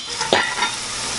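Canned potatoes frying in a pan as they are flipped with a utensil, a brief scraping stir over a continuous close sizzle.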